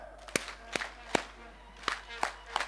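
Crowd at the KwaZulu-Natal vaccination social mobilisation campaign launch claps in unison, six sharp, loud claps spaced roughly half a second apart over a low background hum.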